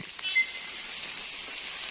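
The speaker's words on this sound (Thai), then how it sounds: "ฝนตกครับตกบ่แห้งบันไดพี่น้อง" Rain falls outdoors during mushroom foraging in Ubon Ratchathani, Thailand, a soft, even hiss with no voices and no clear individual drops.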